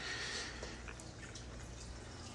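Water run down a residential sewer line during a camera inspection, a steady faint wash with a few light drips, alone with no talk.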